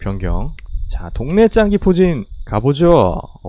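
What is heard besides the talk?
cicadas chirping loudly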